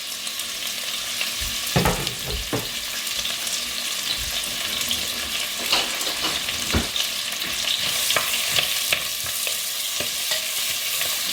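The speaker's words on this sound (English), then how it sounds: "So I'm gonna fry this onion." A whole big sliced onion frying in a pan for jungli laal maas, a steady close sizzle throughout with occasional scraping stirs and light clinks over it.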